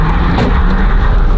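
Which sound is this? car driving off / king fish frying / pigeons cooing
car driving off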